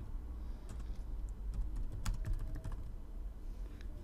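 Typing on a computer keyboard while working in an Excel spreadsheet, a close, irregular run of light key clicks and taps over a low background hum.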